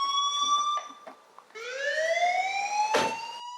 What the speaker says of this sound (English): Authorities suggest homeowners install audible alarms that actually make noise.